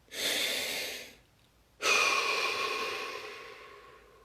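Two deep breaths during a guided relaxation exercise, a long airy inhale followed after a short pause by a longer, slowly fading exhale, close and clear in a quiet room.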